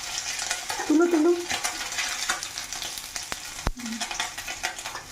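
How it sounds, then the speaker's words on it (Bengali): Small fish frying in oil in a pan, a steady sizzle with occasional stirring scrapes and light clinks of a utensil against the pan throughout. "সবগুলো মাছ ভেজে নাও"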